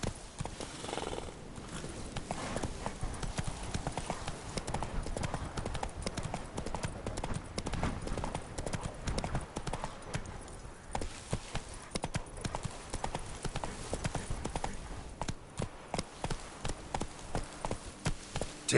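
Horse hooves clip-clop steadily throughout as a rider moves along in The Witcher 3: Blood and Wine, the rhythmic hoofbeats close and fairly loud over a continuous outdoor game ambience, with a brief whinny-like sound.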